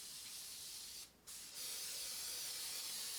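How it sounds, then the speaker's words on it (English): A long hissing burst of cooking spray, briefly interrupted then resuming, close and steady without any talking. "I'm going to hit this with a bit of pan spray."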